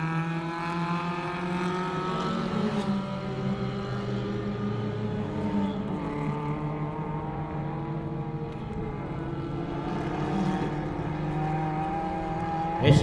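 Honda race cars of up to 1600 cc race down a circuit straight, several engines droning together in steady, high revving tones that shift pitch as the cars jostle close by, loud and continuous throughout.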